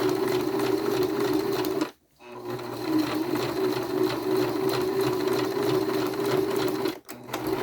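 Sewing machine stitching through puffy, thick quilt foam and batting, a loud continuous whirring hum that stops briefly twice, close by with no clear talk over it.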